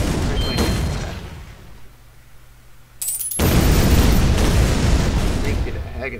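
A tank shell fires in the artillery video game ShellShock Live: a whistling launch, then a loud, sustained boom and rumble of explosions lasting several seconds, with quieter game sounds beforehand.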